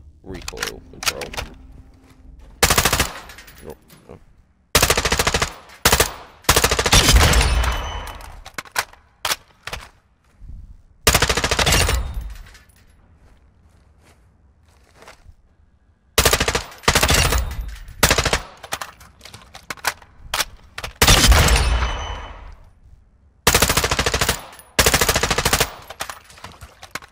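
Machine gun fire in Call of Duty Modern Warfare 2, loud repeated bursts of rapid automatic shots separated by short pauses and quieter stretches of game ambience.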